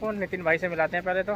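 Pigeons coo in a series of soft, rounded calls from a rooftop loft of Madrasi pigeons, close by, with someone talking over them.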